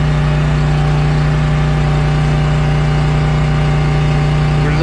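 A semi truck's diesel engine runs on automatic idle in a steady, loud, close drone with a low rumbling throb and faint whine, holding constant throughout with no speech.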